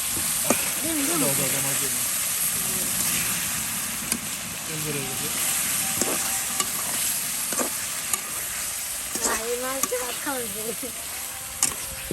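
Masala spice paste sizzles steadily in a pan for a home-cooked fish curry, a constant frying hiss with occasional stirring scrapes running under a woman's speech throughout.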